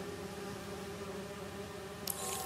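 A steady swarm of bees drones in the Spider-Man 2 PS5 video game, a continuous layered buzz at even loudness with a brief burst of noise near the end.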